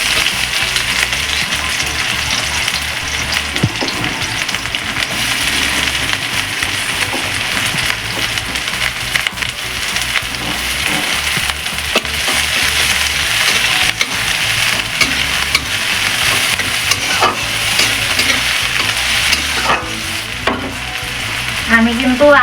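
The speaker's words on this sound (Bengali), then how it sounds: "এবার কেটে রাখা পেঁয়াজগুলো দিয়ে দেবো।" Chopped onions sizzle and fry in a little oil in a pan, a loud steady crackling hiss with occasional stirring scrapes, continuous throughout.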